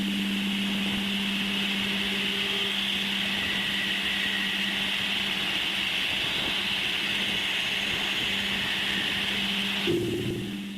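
A space probe recording of Uranus's magnetosphere, sounding as a steady electronic drone with a bright high whine and a low hum, an eerie continuous tone that shifts abruptly near the end.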